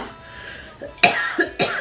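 A few dry coughs close by from someone with bronchitis, two sharp bursts in quick succession after a brief throat sound, with nothing else around them.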